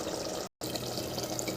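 Water poured into a pot of mutton curry, a steady faint splashing pour with a brief break, alone without talk.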